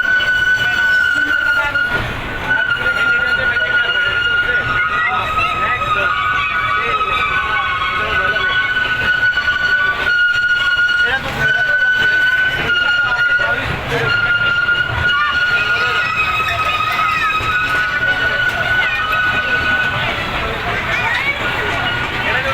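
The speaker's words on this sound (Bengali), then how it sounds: "আমাদের ট্রেন ছেড়ে যাচ্ছে" A train departs and rolls along, with steady loud rumble and rail noise throughout, a sustained high whine riding over it and a few sharp jolts; people talk over the movement.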